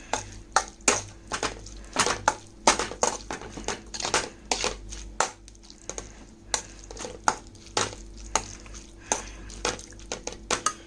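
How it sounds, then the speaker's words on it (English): A spoon stirs cream sauce with chicken in a pan, giving repeated scraping clinks and soft wet sloshes in an irregular rhythm, close and moderately loud. "Now you're going to stir everything together."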